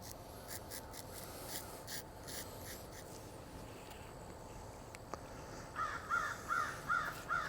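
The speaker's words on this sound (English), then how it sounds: "Did you hear that crow?" A crow caws outdoors in a quick run of about five harsh, rasping calls, moderately close, following several seconds of faint scratching and rubbing sounds.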